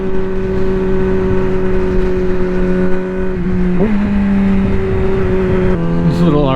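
A Yamaha R6 motorcycle and an Audi R8 run on a highway, engines droning loudly and steadily with a sustained high whine, pitch sweeping as they rev and shift near the end, wind buffeting throughout.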